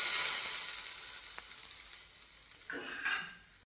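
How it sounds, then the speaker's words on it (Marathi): Mustard seeds sizzle and crackle in hot oil while tempering for a chutney, a bright steady hiss that fades, then a couple of sharper spatters near the end. "त्याच्यामध्ये थोडी मोहरी टाकायची, छान असं तडका द्यायचा आहे"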